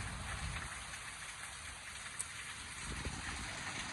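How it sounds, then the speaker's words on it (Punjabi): Rain falls steadily over a village in Danna, Kotli, a faint, even hiss of drops on surfaces with a couple of brief heavier patters and no voices. "ਪੂਰੇ ਇਲਾਕੇ 'ਚ ਇਸ ਤਰ੍ਹਾਂ ਬਾਰਿਸ਼ ਜਾਰੀ ਹੈ"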